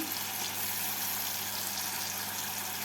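Spices with tomato paste, ginger paste and salt hitting hot tempering oil for a vegetarian Kashmiri potato curry, a steady, loud, dense sizzle that stays even throughout without talk.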